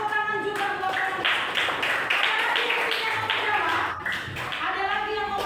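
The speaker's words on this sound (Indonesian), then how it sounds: "tepuk tangan juga buat mereka" Children in a classroom clap in a quick, continuous patter of applause, with a teacher's voice speaking over it throughout.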